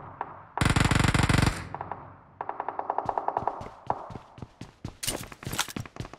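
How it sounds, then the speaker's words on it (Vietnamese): Automatic gunfire in the PUBG Mobile video game on the desert map: one loud, sustained burst, then scattered single shots and short volleys, some sharp and close, others softer and more distant. "Ôi lại bắn nữa kìa"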